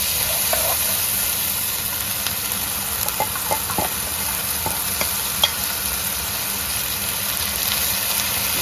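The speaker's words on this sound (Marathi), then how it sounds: "आणि आता त्याच्यावर टाकूया मी टोमॅटोची पेस्ट करून घेतलं" Tomato paste sizzling in a frying pan with a steady, loud hiss that holds throughout, a few faint clinks and stirring touches over it, close up and without talking.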